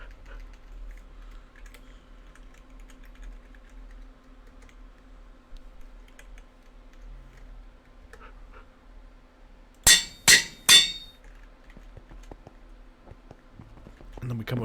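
Three sharp metallic clangs of an anvil in the Minecraft game, evenly spaced and loud against a quiet background, with a low hum underneath and faint movement before and after.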